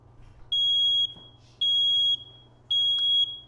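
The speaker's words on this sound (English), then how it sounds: "So that's what a smoke detector sounds like" A smoke detector sounds three loud, piercing high-pitched beeps, each about half a second long and evenly spaced, over a quiet low hum.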